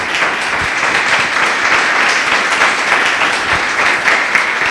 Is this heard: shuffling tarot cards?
no